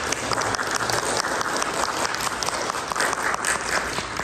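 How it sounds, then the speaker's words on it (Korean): A church congregation at a Sunday worship service applauds to welcome guests, brisk steady clapping from many hands filling the room at even loudness throughout, with no voices over it. "우리 오늘 예배에 참여하신 분들은 박수로 환영해 주시면 감사하겠습니다"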